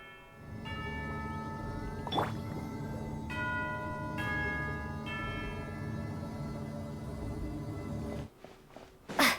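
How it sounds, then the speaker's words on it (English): A bell in the video game Genshin Impact sounds once and sustains over a steady, layered game soundtrack, with a second brighter strike near the end; no one talks. "You hear the sound of a bell."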